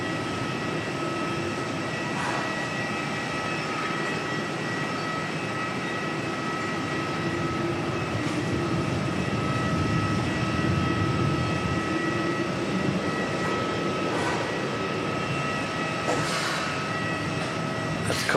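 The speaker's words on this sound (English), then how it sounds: "Another A350-900, just in the normal livery this time" An Airbus A350-900 airliner in standard livery at Auckland Airport gives off a steady, distant jet roar with sustained engine whine tones, holding fairly constant and swelling slightly midway.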